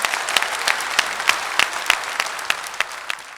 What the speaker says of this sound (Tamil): கரகோஷம்